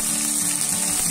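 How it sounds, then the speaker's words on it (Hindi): Tomato puree, made from seven or eight blended tomatoes, sizzles steadily in a frying pan during Punjabi badi preparation, a close, continuous hiss with no talk. "फ्रेंड्स, अब मैं इसमें डाल रही हूँ टमाटर।"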